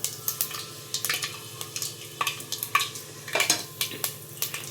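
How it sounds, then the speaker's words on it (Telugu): Mustard seeds, cumin and fenugreek frying in hot tempering oil, a steady close sizzle broken by quick crackles and pops, with a few spoon scrapes against the pan. "ఆవాలు జీలకర్ర చిటపట్లాడుతున్నప్పుడు కొన్ని మెంతులు వేసుకుందాము."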